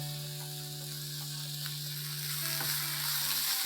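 Chicken curry with spices fries and gets stirred in a pan, a constant sizzle with occasional scrapes of the spoon, under a steady electrical hum.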